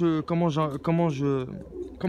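Pigeons cooing in a pigeon loft, deep rolling coos repeated in close, fairly loud phrases with a brief pause before another starts.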